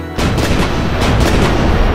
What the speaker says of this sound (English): All right, fire the cannons!